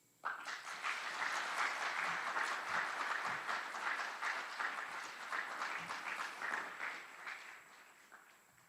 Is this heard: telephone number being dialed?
no